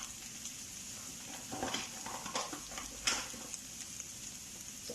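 Garlic and spring onion frying in a pan with a pinch of salt, giving a soft steady sizzle with a few brief stirring scrapes and clinks, close and fairly quiet, with no talk.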